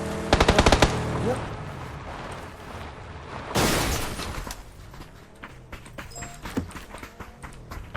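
Bursts of rapid gunfire in PUBG rattle out in short volleys, followed by a louder blast and scattered shots, with faint voices in the background.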